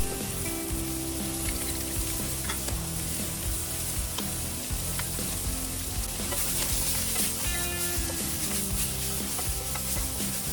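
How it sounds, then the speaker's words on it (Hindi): Chopped carrots, almonds, peanuts, green onion and capsicum with a little sugar fry in a hot pan for a soup, a steady loud sizzle with scraping stir strokes throughout and no talking. "थोड़ा सा हम इसको फ्राई करेंगे, ज़्यादा नहीं, सिर्फ एक से 2 मिनट"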